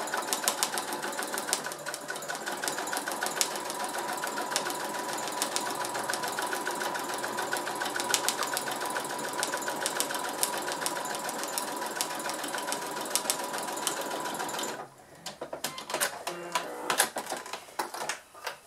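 A sewing machine, its stitch lengthened to 3.5, runs continuously for about fifteen seconds while sewing a diagonal seam on a beginner glasses case, then stops, followed by lighter clicks and handling noises.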